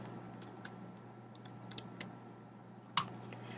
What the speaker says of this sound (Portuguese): Digitando aqui no campo de entrada